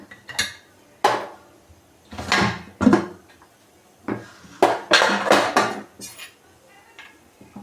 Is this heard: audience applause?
no